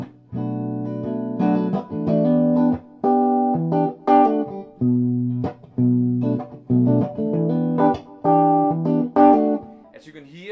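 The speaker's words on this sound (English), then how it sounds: "if I put this selector down here in the middle position and turn all the knobs up, I work with all 3 pickups" An SG-style electric guitar with the selector in the middle position and all knobs up, running all three pickups, playing a strummed chord sequence with full, ringing tones and short breaks between chords, close and clear without speech.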